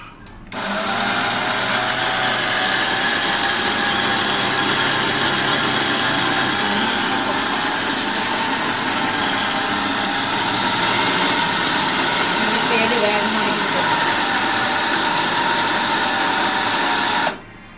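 Mixer grinder whirring loudly and steadily for about sixteen seconds as it grinds idli podi spice powder with added salt, starting and stopping abruptly, with no speech.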